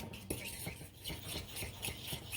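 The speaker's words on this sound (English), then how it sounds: "I'm going to mix it" Mayonnaise being stirred into a mixture in a bowl for BLT sandwiches, a steady run of scraping, clinking utensil strokes against the dish, close and moderately loud with no talking.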